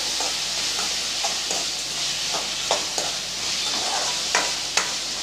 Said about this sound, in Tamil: கல் உப்பு சேர்த்து நல்லா வதக்கும் போது உங்களுக்கு சீக்கிரமாக தக்காளி வதங்கிடும் இப்போ இது நல்லா வதங்கிட்டு இருக்கட்டும்